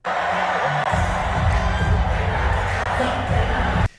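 A loud stadium crowd at a concert sings along and cheers in a dense, continuous roar that swells from about a second in and holds steady until it cuts off near the end.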